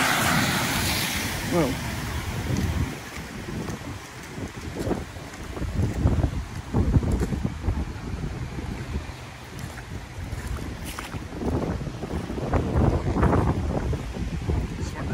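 Strong wind and surf at Deerfield Beach during Tropical Storm Eta, with a steady roar of gusts buffeting the microphone and waves surging nearby while a voice speaks briefly.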